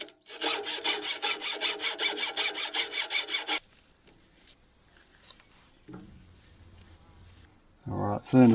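A hand saw cuts through a stuck caravan fitting during a retro caravan restoration, giving a fast steady run of rasping strokes for several seconds. Then comes quiet handling, with a voice speaking near the end.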